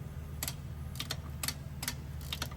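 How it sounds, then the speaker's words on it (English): A Bendix air disc brake adjuster on a Freightliner Cascadia semi truck clicks as it is backed off, quiet sharp ratcheting clicks in small clusters of two or three, close and otherwise quiet. "You're gonna hear it clicking while you're taking it off."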